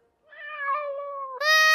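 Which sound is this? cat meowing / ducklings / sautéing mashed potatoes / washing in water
cat meowing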